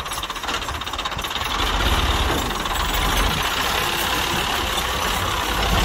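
Tractor driven by a young boy, its engine running loud and close with a steady, rough diesel chug that builds slightly and then holds even throughout.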